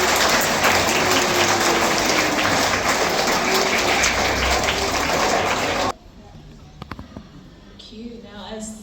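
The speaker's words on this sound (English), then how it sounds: "So let's give her a big clap." Sustained, dense applause from a school assembly celebrating a pupil named Janisha, steady clapping for several seconds that cuts off abruptly, leaving quiet room noise and faint voices.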